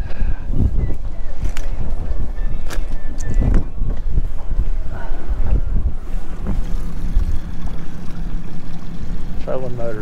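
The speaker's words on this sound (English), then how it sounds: "Trolling motor's having a hard time keeping up." A boat's trolling motor runs on open water in strong winter wind, with heavy wind buffeting and water noise throughout and some clattering bumps near the start, and no clear engine note standing out.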